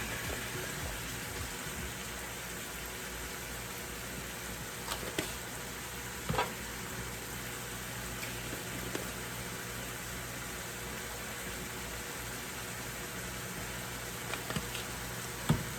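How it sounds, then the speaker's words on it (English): Ground beef sizzles in a frying pan, seasoned with pepper, onion powder and garlic powder. The sizzle is a steady, dense crackle that carries on without a break, with a few faint scrapes of stirring now and then. "So I am just cooking up my ground beef here."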